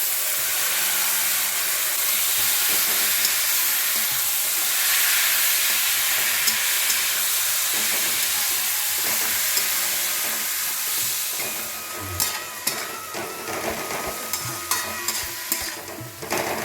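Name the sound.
banana flower with spices frying in a pan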